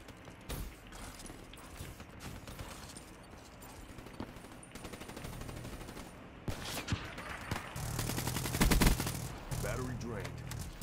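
Rapid bursts of KN-44 assault rifle fire in Call of Duty: Black Ops III multiplayer, steady automatic gunfire that grows louder and denser toward the end, with faint voices in the background.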